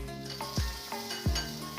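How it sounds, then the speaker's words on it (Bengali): Jackfruit seeds frying in melted ghee in a wok give a steady close sizzle, with two or three low knocks of a spatula stirring and scraping against the pan. "ঘিটা যখন একদম ভালোভাবে গলে যাবে, কড়াইয়ের গায়ের চারিপাশে লাগিয়ে দেওয়ার পরে কাঁঠাল বীজগুলো দিয়ে দেওয়া আসতে।"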